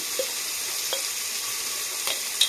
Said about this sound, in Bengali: কিছু সময় জন্য এগুলোকে ফ্রাই করে নেব